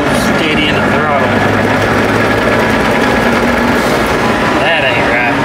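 A turbocharged Jeep TJ engine running rough under steady throttle while driving, a loud continuous drone with uneven, stumbling pulses and a faint whine, heard from inside the vehicle.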